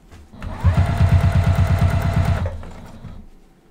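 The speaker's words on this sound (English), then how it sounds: "I'm gonna go ahead and stitch that down." A sewing machine stitches the binding down on a quilt-as-you-go pot holder, a loud, fast mechanical rattle that runs steadily for about two seconds, then slows and stops.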